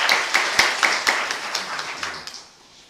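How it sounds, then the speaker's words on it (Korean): A small church congregation at a military brigade's Sunday service claps in encouragement, with distinct, fairly sparse handclaps at a brisk rhythm that thin out and fade near the end. "우리 격려의 박수"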